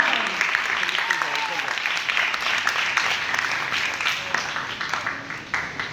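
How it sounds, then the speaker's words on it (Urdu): A church congregation gives loud, steady applause for the whole stretch, dense clapping from many hands under a voice that keeps speaking. "میں درخواست کرتا ہوں آپ کی زوردار تالیوں میں"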